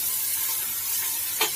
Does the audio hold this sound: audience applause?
no